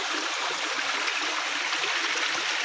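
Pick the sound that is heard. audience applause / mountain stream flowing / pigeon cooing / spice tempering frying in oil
mountain stream flowing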